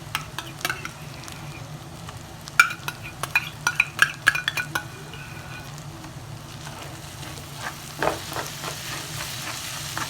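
Meat and tomato paste stirred in a frying pan gives a soft steady sizzle with a run of clinking, scraping spoon strikes against the metal, close and alone.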